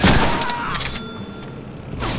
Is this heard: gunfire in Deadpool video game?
yes